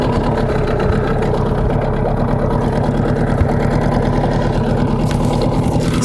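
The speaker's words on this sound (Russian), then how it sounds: "Смотрим, как работает мотор." A Yamaha two-stroke outboard motor, freshly fitted with a new spark plug and running on a 1:50 Yamalube TC-W3 oil mix, putters at idle with a steady, rapid, close-up rhythmic chug.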